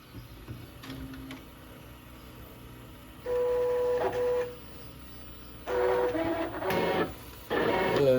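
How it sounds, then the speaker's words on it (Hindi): A DTF printer runs a nozzle check, its carriage motor whirring in several separate passes of a few seconds each, with mechanical clicks and quieter hum between the bursts. "हम एक पहले नोजल चेक ले लेते हैं कि नोजल्स परफेक्ट है।"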